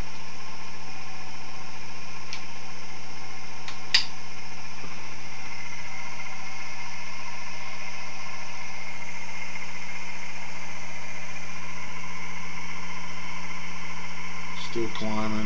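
An experimental three-phase energizer spinning up, giving a steady low mechanical hum with constant tonal bands and a faint whine throughout, plus a few brief clicks near the start and the end.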